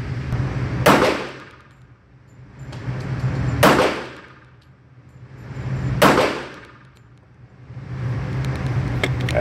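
Three sharp pistol reports from a SAR USA K2 .45 handgun fired outdoors, spaced a couple of seconds apart, each a loud crack over a swelling, wind-like background.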